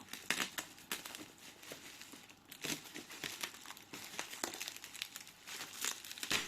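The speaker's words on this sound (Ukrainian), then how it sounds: "я ці пупирці даю друге життя, через то акуратно так розпаковую" Bubble wrap packaging being slowly and carefully peeled open and unwrapped, giving a close, steady run of soft crinkling and crackling rustles with brief louder crunches throughout and no talk.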